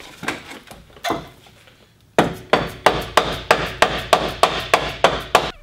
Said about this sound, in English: So I've been hammering away here.